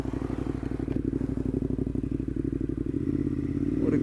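A Ducati Monster 821 Stealth motorcycle rides along, its engine giving a loud, close, evenly pulsing thrum that holds a steady pace and swells slightly near the end, with no talk.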